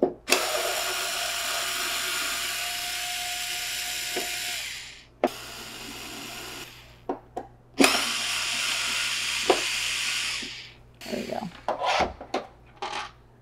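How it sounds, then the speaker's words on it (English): A screwdriver backs six screws out of the plastic base of a SNOO smart bassinet in several long whirring runs with short gaps, then a cluster of brief clicks and rattles at the end. "take your screwdriver and we are going to remove these 6 screws"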